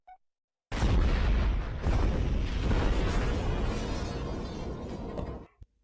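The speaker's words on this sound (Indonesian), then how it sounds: "Tower dekat penjara meledak dan puing-puingnya akan jatuh ke bawah." A sudden loud explosive blast as a tower near a prison blows up in a film, followed by a long roaring rumble of crashing debris that fades after several seconds.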